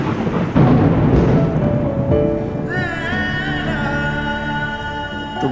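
Steady rain with rolling thunder, loud and close, in a Pakistani drama scene; after a few seconds sustained music swells over the downpour.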